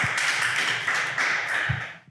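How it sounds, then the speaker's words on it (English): Small group of people clapping in applause at a live pop-up show, a dense burst of hand claps lasting about two seconds before tapering off, close and loud. "We applaud that."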